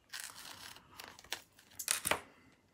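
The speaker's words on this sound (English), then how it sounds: "So I'm cutting my dimensionals" Scissors snipping through sheets of dimensional foam craft stickers, several short crisp cuts and crinkles close by, irregular and fairly quiet.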